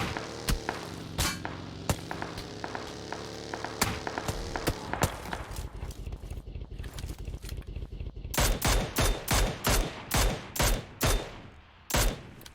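Gunfire during a drive-by in PUBG Lite: bursts of rapid shots, then a run of loud, evenly spaced single cracks near the end, with no talking.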